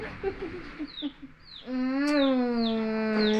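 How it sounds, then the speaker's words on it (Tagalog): A chicken clucks a few short notes indoors, then lets out a long, loud drawn-out squawk nearby in a quiet room. "May manok kami dito sa loob."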